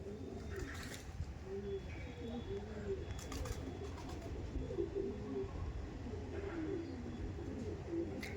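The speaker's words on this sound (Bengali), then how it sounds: "এই যে ছিল মেল পায়রা" Male and female Andhra pigeons kept for sale coo in a steady series of low, throaty calls, with several birds overlapping at moderate distance under faint background noise.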